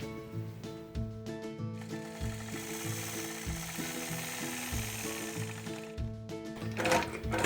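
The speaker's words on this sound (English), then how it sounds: "So the first thing we're going to do is stitch out the spine." A sewing machine stitches the spine of a quilted feather border guided by a Sway quilting ruler, running as a steady, rapid, close mechanical hum and chatter that pauses briefly and picks up again.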